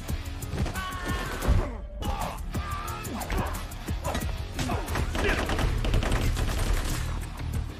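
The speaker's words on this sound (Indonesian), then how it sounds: "ada gangster yang menembakkan senjata dari atas gedung" Gunfire from gangsters shooting off the top of a building in an action film, dense bursts of shots and crashes over a thick score, with one brief silent break.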